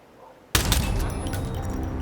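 Gunfire in the video game Hitman starts with a sudden sharp blast after a near-silent moment, then a dense, loud burst of shots and crashing noise that continues to the end.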